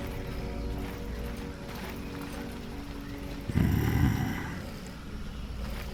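Horse hooves clip-clop in Skyrim, a steady trotting rhythm under ambient game sound, with a louder thudding burst partway through before the hoofbeats settle back to a moderate level.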